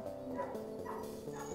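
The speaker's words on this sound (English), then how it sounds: "the dog was just barking" A dog barking and yipping indoors, a few short uneven barks with a whiny edge, fairly close over a background of other sound.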